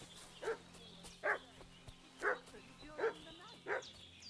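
A dog in the medieval game Kingdom Come: Deliverance II barks five times at a steady, evenly spaced rhythm, moderately near, over a low ambient hum.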